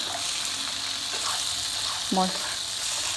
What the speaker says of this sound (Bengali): এবার এই মশলাটা সব সবজির মধ্যে দিয়ে দেব ভালো করে কষিয়ে নেব